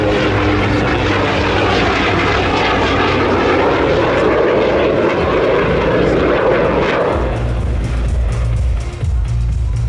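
A Yak-110 aerobatic airplane's propeller engine roars loudly and steadily overhead at an airshow, its drone holding strong before easing slightly near the end.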